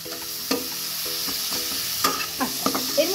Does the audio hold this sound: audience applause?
no